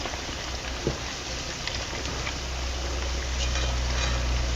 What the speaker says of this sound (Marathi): असं पूर्ण असं लालसर होईपर्यंत आपल्याला हे लॉलीपॉप तळून घ्यायचं